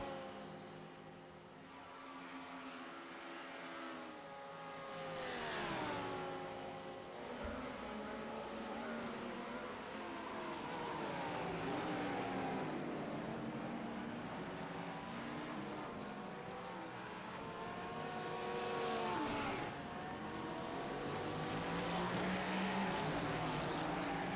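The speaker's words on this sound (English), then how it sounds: "Some more GTP traffic coming around the oval section now." GTP prototype race cars circle the oval section at Daytona in an IMSA racing video game, engines droning and rising and falling in pitch as several pass, faint and continuous throughout.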